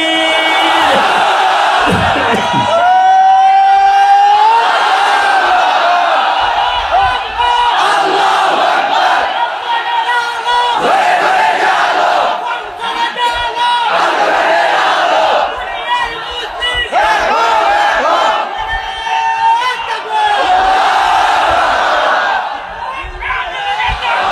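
A huge crowd at an Islamic mahfil gathering in Chapainawabganj roars Allahu Akbar back to a takbir call, with loud repeated unison shouts swelling and falling over a sustained crowd din.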